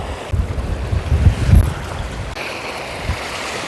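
Strong wind roaring across a microphone on the Jeju Island coast during a fishing outing, a loud continuous rumbling buffet with gusts swelling and easing, no voices.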